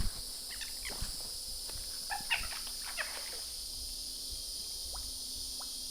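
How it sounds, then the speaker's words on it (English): Scattered croaks of frogs, a handful of short calls spread irregularly over a steady high-pitched insect drone in a quiet outdoor setting. "But you can hear the frogs."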